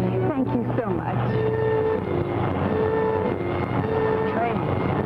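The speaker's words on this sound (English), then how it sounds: "Stop the train!" A continuous loud rumble of a moving train with steady mechanical noise and a brief whistle-like tone, no talking.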